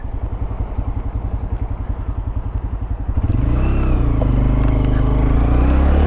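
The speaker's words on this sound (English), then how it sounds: "It's like a badass Ducati." A Ducati motorcycle engine idles with a loping, lumpy pulse, then revs up into a loud, continuous roar. It is close by, with light mechanical clatter.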